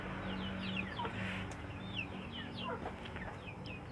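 Several free-range village chickens, some infected with worms, cluck and chirp softly in a steady chorus, with a low background hum and no voices.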